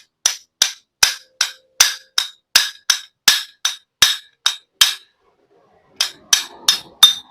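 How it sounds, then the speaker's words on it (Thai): A hammer gently taps a size-10 nut used as a drift to drive out an engine crankshaft bearing: about a dozen steady, ringing metallic taps, a short pause, then four more, close and clear. "แล้วก็ตอกนะครับใช้ค้อนตอกเบาๆนะครับ"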